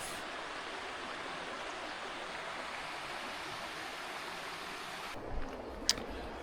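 The River Wharfe flows beside the little hamlet of Hubberholme with a steady, broadband rush of water, softening near the end where a couple of brief knocks sound, with no talk.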